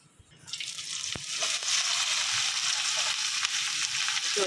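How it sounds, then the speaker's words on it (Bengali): Okra, onion and green chili hit hot oil together and start sizzling, a quiet start building within a second into a steady, loud crackling fry close by, with a few clinks of a utensil. "পেঁয়াজ মরিচ ভেন্ডি সব একসাথে এখন এই যে তেলে দিয়ে দিব"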